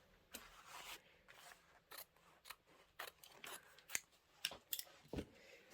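Scissors snip quilt fabric in a quiet room, a series of separate crisp cuts spaced irregularly, some with brief rustling of the cloth between them.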